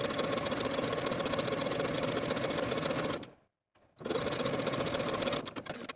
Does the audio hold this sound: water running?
no